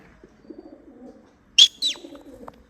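Two quick pigeon calls ring out close by, over a soft low murmur of background noise.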